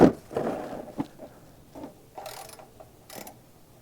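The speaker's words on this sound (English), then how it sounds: "So this drain plug is going to take a 14mm socket" A socket wrench with a 14mm socket clicks and ratchets while loosening the oil drain plug on a Toyota 4Runner, producing a few separate close metallic clicks and scrapes with pauses between them.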